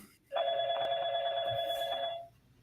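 A single long telephone ring, an electronic trill lasting about two seconds, loud and close, followed by quiet.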